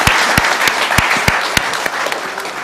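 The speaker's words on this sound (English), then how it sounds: "Well, let's give a big," Applause at a social business design lab event on a portable health clinic, a full room clapping steadily and loudly throughout, with sharper individual claps standing out from the dense wash.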